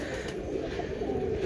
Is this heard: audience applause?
no